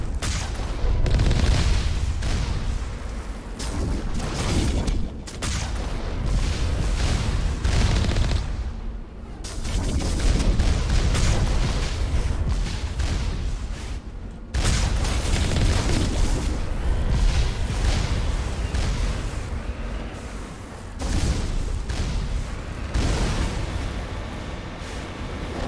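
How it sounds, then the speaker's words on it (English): Geth enemies in Mass Effect Legendary Edition lay down sustained gunfire, a dense barrage of loud booming shots and bursts that continues for most of the stretch, dropping out only briefly twice. "Geth and they're already firing at me."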